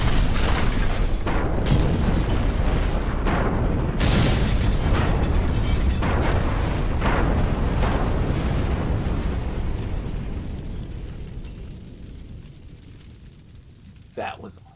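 Explosions from a TV episode played back, a dense roar of booms and bursts that gradually fades toward the end.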